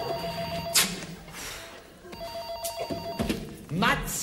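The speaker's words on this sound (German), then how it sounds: "Telefon!" An old telephone bell rings in short bursts inside an office-like room, its metallic jangle repeated under lively talk and exclamations from several people.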